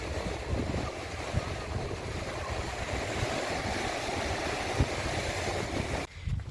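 Steady surf of the North Sea in the Netherlands rushes and rolls close by on the shore, mixed with heavy wind buffeting the microphone; no voices are heard.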